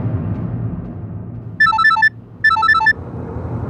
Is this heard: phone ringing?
yes